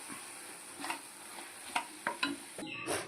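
Homemade ground chili powder is stir-roasted in a hot pan, with a quiet steady sizzle under several sharp scraping stirs of a spoon against the metal. No voices.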